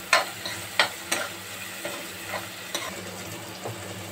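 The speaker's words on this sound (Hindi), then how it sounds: "अब हम मसाले को अच्छी तरह भून लेंगे।" Spices fry for a ridge gourd curry. A soft continuous sizzle runs under a few scattered, sharp stirring scrapes, and nobody speaks.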